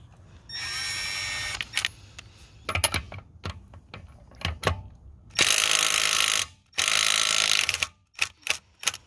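A Milwaukee M12 3/8-inch cordless impact wrench drives a lug nut through a 21 mm socket, with two loud, sustained hammering bursts near the end, preceded by a high whine and scattered clicks and handling knocks.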